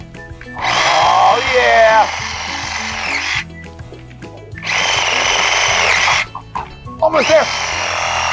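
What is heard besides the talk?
Sawzall reciprocating saw cutting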